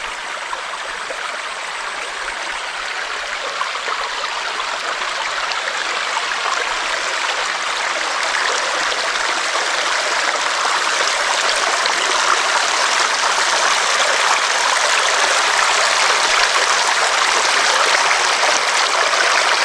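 Steady, close rush of a flowing mountain stream at a riverside car campsite in Tanay, Rizal, a constant broadband wash of water running without pause for the whole stretch, with no talk over it.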